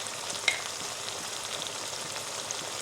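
Mutton korma with browned onions and garam masala sizzles steadily in a pan, a continuous close frying hiss with one small pop near the start and no talk.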